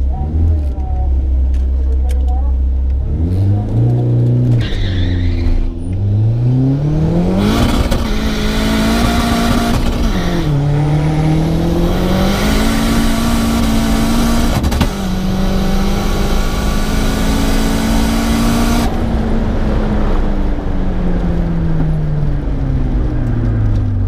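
A nitrous-fed VW Polo TDI and another race car accelerate hard down a drag strip, engines climbing through gear changes and holding a loud, rising drone up close while people talk over it.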